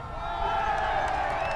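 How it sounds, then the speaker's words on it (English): A crowd erupts in joyous cheering and shouting, a dense, steady roar of many voices with whoops rising over it, sustained and fairly loud throughout. "Joyous noise erupted from the crowd."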